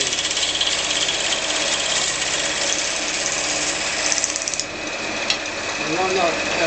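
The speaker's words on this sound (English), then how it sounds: "Just hold the chisel off the timber just enough so that you can use your cutting edge." Steel chisel scraping and stripping bark along a peach log, a steady continuous rasping with dense rhythmic grating, close and loud throughout with a brief knock near the end.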